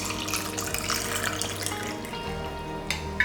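A drink splashes and trickles into a second glass in a kitchen, a close continuous pour that tapers off near the end, no speech over it.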